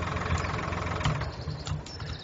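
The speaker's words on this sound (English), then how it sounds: "I've just got a massive great tractor." A large tractor idles in Farming Simulator 2013, a steady, loud mid-low engine drone with faint knocking pulses, running continuously without talk.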